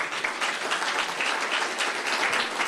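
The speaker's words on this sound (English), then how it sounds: "Please give him a round of applause." A lecture audience claps for a speaker introduced at a Cinco de Mayo history talk, a dense, even burst of applause from many hands that holds steady throughout at moderate distance.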